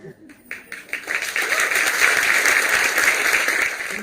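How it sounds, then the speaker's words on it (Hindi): An audience claps and cheers at a poetry performance, the applause starting with scattered claps and swelling into a sustained burst lasting several seconds. "तालियां कम है या हिचकिचाहट ज्यादा है?"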